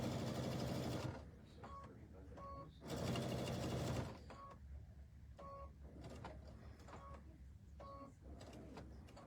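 Two bursts of a sewing machine stitching an oven mitt, each lasting over a second, run loud and close, then give way to quieter repeated mechanical clicks and handling sounds.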